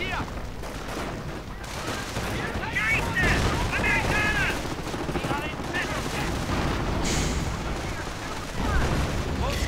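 Dense gunfire as riflemen charge into an MP40 in a World War II strategy video game, a continuous rattle of overlapping shots and bursts with explosions, loud and unbroken, with a voice talking over it.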